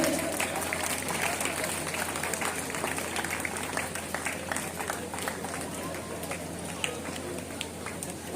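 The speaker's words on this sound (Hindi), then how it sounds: "तालियां कृपया बजती रहे।" Sustained crowd applause at the closing ceremony of a state-level open sports festival, a steady wash of clapping that holds at even loudness throughout, with voices mixed underneath.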